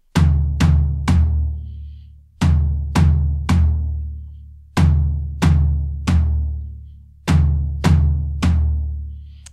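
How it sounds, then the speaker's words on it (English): Drum toms are struck in groups of three, repeating in an even, ringing pattern that alternates floor tom and middle tom hits, each with a long decaying boom, played alone and close. "left hand on the middle tom or high tom if you don't have a middle tom"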